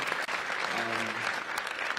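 A crowd claps steadily, with a brief voice or cheer rising through the middle of the dense applause.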